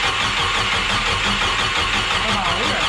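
A swapped 3.0L turbo boat engine is turned over with its belt fitted, giving a continuous, loud mechanical churning and whirring close by with rough low rumbling, and a voice seems to be mixed in.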